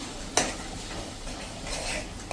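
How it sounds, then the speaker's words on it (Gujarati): Brinjal curry is stirred in a pan over a medium flame, a soft continuous scraping and faint sizzle with one sharp utensil clink near the start and another at the end. "આ રીતે આપણે મીડિયમ ફ્લેમ ઉપર કન્ટિન્યુ ચલાવતા જ રહેશું, એની કચાશ દૂર થાય ને ત્યાં સુધી"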